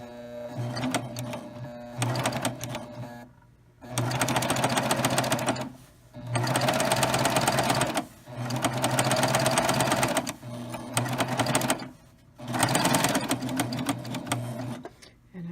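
A Baby Lock serger stitches a crosshatch pattern on an apron, running in loud rapid bursts of a few seconds each, broken by short pauses.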